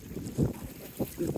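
Strong wind gusts buffet a boat being paddled down a river, a low, blustery rumble that swells and eases in short pulses, fairly quiet and up close to the microphone.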